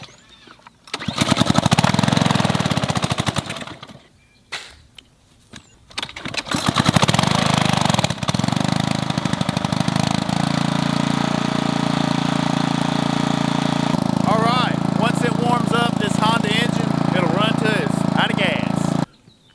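A pressure washer's gas engine is tugged, sputters briefly, then catches on a second pull and settles into a loud, steady running drone close by, with a person speaking briefly over it.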